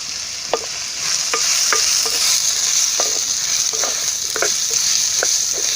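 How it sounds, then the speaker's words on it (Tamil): Sambar powder is stirred into frying cowpea and bottle gourd in a pan, a steady close sizzle broken by repeated scraping strokes of a spoon at an even rhythm, with no voices. "சாம்பார் பொடி எல்லாத்தோடும் நல்லா மிக்ஸ் ஆகிற மாதிரி கிளறி விட்டுருங்க"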